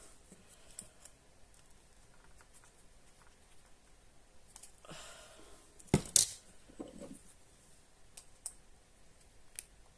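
Scissors cutting paper for a handmade craft box: scattered small clicks and snips over a quiet background, with a louder crisp cluster of cuts near the middle.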